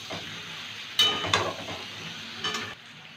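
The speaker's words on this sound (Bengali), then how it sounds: "এবার ভালো করে কষিয়ে নেব।" Squash sautéing in a pan with red chili powder and Kashmiri chili powder, a steady close sizzle broken by a few louder bursts of stirring and scraping.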